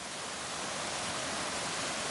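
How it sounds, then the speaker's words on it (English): A small creek on a wooded waterfall trail in North Carolina flows with a steady, faint, even rush of water, continuous and unbroken for the whole stretch. "Got a little creek we got to cross here."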